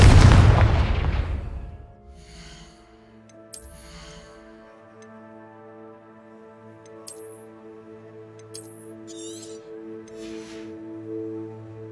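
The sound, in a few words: Confringo explosive blasting spell in Hogwarts Legacy video game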